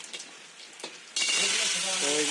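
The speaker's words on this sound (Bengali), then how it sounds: "তো এই যে শামুকগুলো এখন ভাজা হবে," Small snails hit a hot pan in village-style cooking, breaking into a sudden loud, hissing sizzle that continues steadily while a voice speaks over it.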